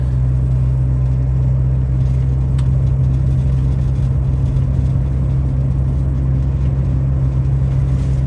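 A 1967 Humber Hawk with an automatic gearbox drives uphill in full drive, its steady low engine rumble and road noise droning continuously and loud from start to end, with no talk.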